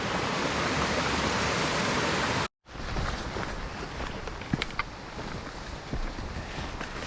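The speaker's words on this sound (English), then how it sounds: "there's just waterfalls galore on this whole trail" A waterfall on a mountain trail in the Hazel Creek watershed gives a dense, constant roar that briefly cuts out, then returns slightly softer with a few faint knocks or steps near the microphone.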